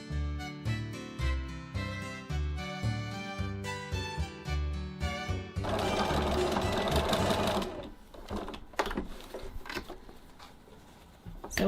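A sewing machine stitches the handle straps of a tote bag, running in a steady close rhythm of rapid needle strokes, pausing, then restarting in a busier stretch with some clattering handling noise.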